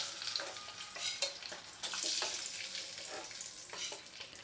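Eggs frying in hot oil in a pan while making masala egg curry: continuous crackling sizzle with spitting pops and occasional stirring or scraping sounds, fairly close and steady, with no talking.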